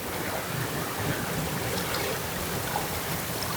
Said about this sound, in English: you just hear the boat gliding through the water and the waves